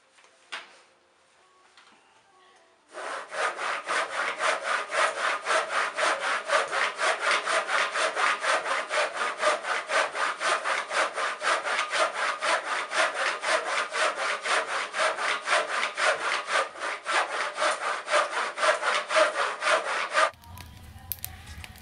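Firewood sawn by hand outside a bothy in the Scottish Highlands, a close, loud, steady rhythm of rasping back-and-forth saw strokes lasting around seventeen seconds before stopping abruptly.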